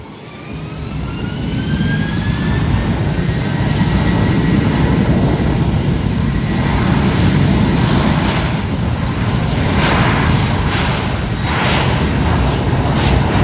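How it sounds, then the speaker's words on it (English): A Southwest Boeing 737 MAX 8 jet on final approach to runway 8 at San Juan airport roars loudly and steadily, a rising whine of engines swelling and holding close by. "The Southwest Max 8 on final."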